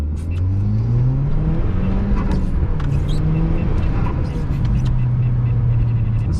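A Volkswagen Golf R hatchback pulls hard on a snowy road, its engine rising and shifting through several steady revving climbs, loud and close throughout, with a voice briefly talking over it.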